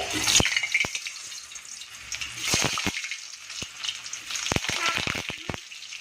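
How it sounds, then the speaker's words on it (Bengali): Potato pieces in hot oil give a loud, continuous crackling sizzle up close, with bursts of sharp pops and spatters throughout. "আর এই পাশ থেকে তেল গরম হয়ে গিয়েছে, আমি এখন আলুগুলো ফ্রাই করে নিব।"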